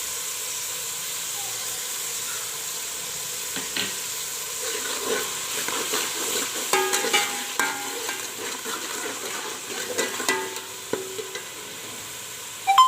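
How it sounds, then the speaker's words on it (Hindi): Masala for chana biryani frying in a pot while it is stirred, with a soft steady sizzle, scraping stirs and occasional clinks, kept at moderate loudness throughout. "मसाले को अच्छी तरह भून लें।"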